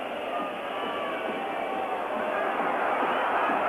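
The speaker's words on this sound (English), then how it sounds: "the entire crowd whistling their displeasure" A dense, shrill wash of whistling from a packed football stadium crowd at the 1986 Italy vs Argentina match, sustained and loud throughout.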